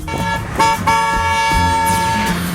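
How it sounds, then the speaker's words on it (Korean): A car horn toots in short, bright bursts against road traffic, several quick honks close by with brief gaps between them, and no voices over it. "경적을 짧게 울려 자신의 존재를 알리는 사람도 있고"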